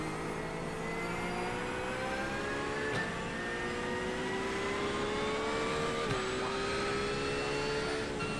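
A GT3 race car engine at the Algarve circuit in a racing game drones steadily at part throttle, its pitch holding and slowly shifting with a couple of brief gear-change blips, loud and close, with no talk.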